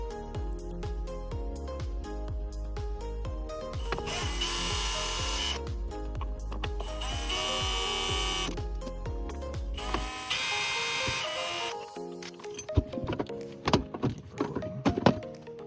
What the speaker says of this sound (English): You've got 6 T20 screws you'll have to take off.